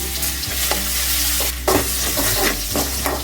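Crushed garlic frying with fennel seeds in hot oil for a village rasam, a loud, steady sizzle close up, broken by occasional stirring scrapes, with no talk.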